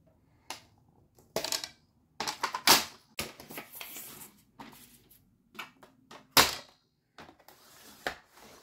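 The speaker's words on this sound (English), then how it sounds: "I like to cut out my vinyl with my trimmer" A paper trimmer slices through craft vinyl in a string of crisp, close clicks and short scraping cuts, irregularly spaced with brief pauses between strokes.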